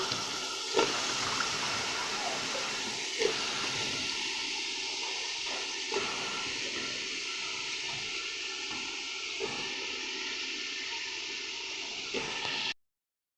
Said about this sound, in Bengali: নিয়ে আমি এই যে ভালো করে একটু এই যে নাড়িয়ে চাড়িয়ে নিচ্ছে